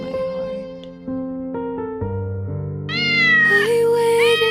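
A small kitten meows in a high, drawn-out cry near the end, over sustained musical tones that rise in layers and stay loud throughout.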